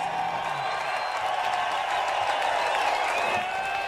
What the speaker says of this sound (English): definitely a crowd favorite as you hear the Texas fans cheering him on